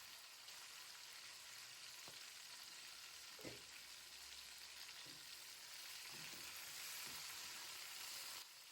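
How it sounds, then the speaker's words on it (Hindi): Chicken and onions sizzling in oil for Hyderabadi dum biryani, a steady soft hiss of frying with a few scattered stirring clicks and scrapes, fairly quiet and without voices. "चिकन को प्याज के साथ अच्छी तरह भूनना है"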